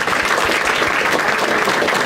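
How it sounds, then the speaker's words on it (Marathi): A stand-up comedy audience claps for two performers, a dense, loud burst of applause that holds steady for its whole short length. "एकदा टाळ्या वाजवा दोघांसाठी."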